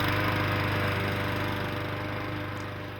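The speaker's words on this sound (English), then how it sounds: "Operating a typical gasoline-powered lawnmower for 1 hour" A typical gasoline-powered lawn mower runs close by with a steady droning engine and rapid rhythmic pulsing, easing slightly quieter toward the end.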